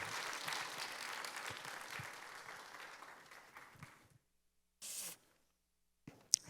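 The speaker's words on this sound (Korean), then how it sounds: "귀한 교수님 보내주신 하나님께 감사의 박수로 교수님 모시도록 하겠습니다" Applause welcoming a guest professor at a church gathering, a steady wash of clapping from the congregation for about four seconds that fades out, followed by silence and a couple of brief stray noises.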